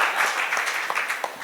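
A mushaira audience at a poetry event breaks into applause, a dense, loud, continuous wash of many hands clapping at once, without a break.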